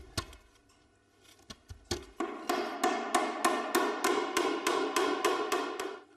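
A hammer drives small nails to assemble a hand-carved wooden clock case: a few scattered taps, then a steady run of about a dozen sharp, ringing blows, evenly spaced and close by.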